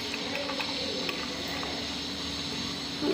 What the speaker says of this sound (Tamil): முட்டை ஆம்லேட்டுக்கு முட்டை அடித்து வச்சுருக்கேன். ஊற்ற வேண்டியது தான்.